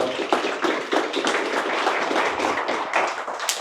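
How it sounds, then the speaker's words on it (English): An audience at a career fair applauding a speaker named Julio, a dense round of clapping that holds steady and fairly loud for a few seconds. "Everyone give Julio another round of applause"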